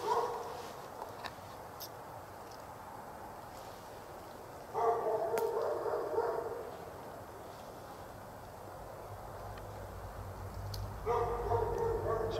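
A dog barks from behind gates in woods at night, two bursts of repeated barking at a moderate distance separated by quieter ambient stretches, with a low rumble building toward the end.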